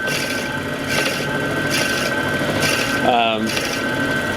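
A Wen wood lathe drills into reclaimed oak, a steady high motor whine and grinding cut running throughout, with a brief sharper squeal as the bit is backed out to clear sawdust.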